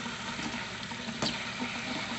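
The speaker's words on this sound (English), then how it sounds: "Sort of rinse it, get the starch off of it as much as possible." Water runs steadily from a tap over rice on a tray as the starch is rinsed off, a soft continuous splashing hiss with one brief sharper clatter midway.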